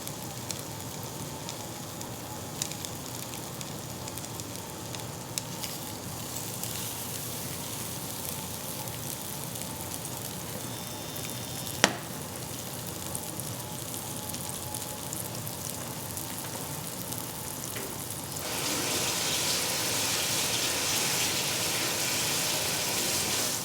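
Shrimp cooking in a pan of melting butter, giving a steady, even sizzle that runs throughout and turns louder and brighter toward the end, with no talking.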